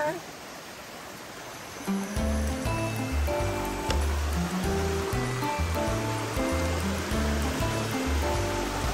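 River water rushes steadily in a broad, hissing wash, running throughout while music with a thumping beat plays over it.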